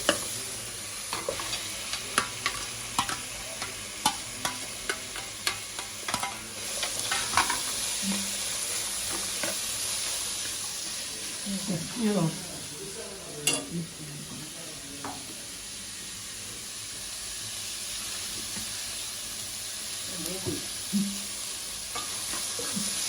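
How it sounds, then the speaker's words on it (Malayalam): Long-sliced onions and green chillies sautéing in a pan, a continuous close sizzle broken by repeated spatula scrapes and knocks from steady stirring, with no speech. "ഒന്ന് കളർ മാറി വരുന്നവരെ ഇളക്കിക്കൊണ്ടിരിക്കണം"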